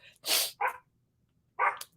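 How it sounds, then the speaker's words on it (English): Dogs bark from downstairs in a home: a few loud, sharp barks in two short clusters separated by a brief silence. "Or that maybe they hear the dogs downstairs."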